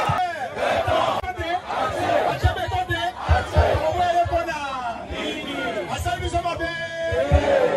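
A crowd at a political rally roars and shouts continuously, with cheering and chanting dense throughout and a voice rising above the din at times.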